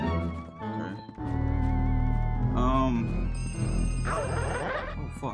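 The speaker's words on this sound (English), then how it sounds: "What's that cell phone call?" A cell phone rings inside the Luigi's Mansion video game, its electronic trill sitting under a busy, steady bed of game music and effects for the whole stretch.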